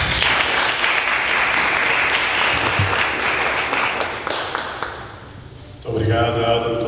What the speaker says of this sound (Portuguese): Pedi uma salva de palmas para os nossos autores.